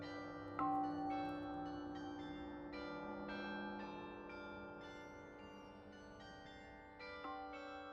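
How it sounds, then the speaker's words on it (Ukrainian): New Year bells ring from a tower as an audiobook sound effect. Several resonant strikes overlap in a rich, lingering peal, with fresh hits at intervals over the sustained ringing. "на вежі вдарили новорічні дзвони"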